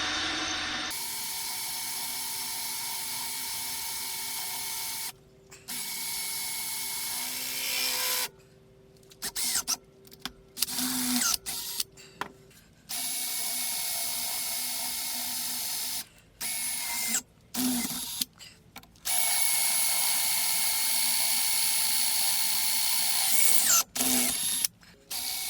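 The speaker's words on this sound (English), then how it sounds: "It's only cast iron, folks, so it drills really easily, as you can probably see." A drill bores holes into a cast iron plate for a 20-ton shop press build, sounding as a steady loud grinding whir in several bursts separated by brief pauses.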